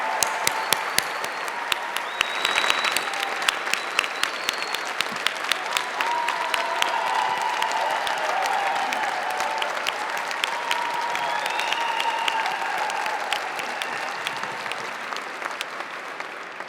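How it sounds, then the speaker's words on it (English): Sustained audience applause at a swearing-in ceremony for the new San Francisco Fire Chief, a large crowd clapping steadily and loudly throughout, with some whistles and cheers mixed in. "One more hand for our 26th Chief of the San Francisco Fire Department."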